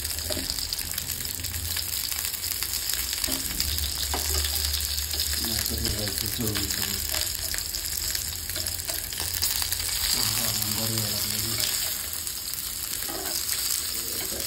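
Fish fingers fry in hot oil with a loud, sustained crackling sizzle and scattered sharp spatters throughout, along with occasional stirring scrapes and a brief low murmur of voices in the background.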